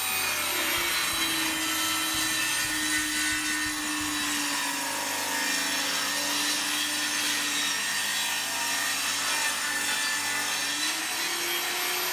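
Handsaw cutting 30-degree angle cuts into a wooden plank for a Kenyan top-bar beehive, a continuous rasping stroke-by-stroke sound, close and alone with no talking.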